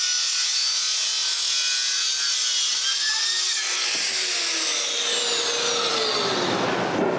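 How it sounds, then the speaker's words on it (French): A live-edge wood board being sawn in two, heard as a harsh, continuous rasping cut with the pitch rising and whining toward the end as the blade finishes through the piece, loud and close. "Maintenant que c'est coupé dans la longueur, je peux la couper en 2. Encore une fois, en 3 coupes."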